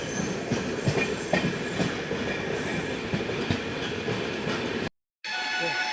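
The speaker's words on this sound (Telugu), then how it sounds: "ఇప్పుడు మన ట్రైన్ వచ్చింది" A Tirumala Express train rumbles into Narsipatnam Road station close by with steady wheel clatter and occasional high squeals of brakes, cutting briefly to silence near the end before resuming.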